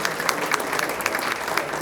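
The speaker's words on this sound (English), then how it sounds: "Give her a round of applause." An audience at a business owners' gathering gives a round of applause, brisk close clapping from many hands, steady and loud across the short stretch with a few sharper claps standing out.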